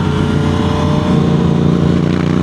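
A Suzuki GSXR 1000 motorcycle engine runs loud and close, a deep, steady throbbing rumble with a slight rise in revs partway through.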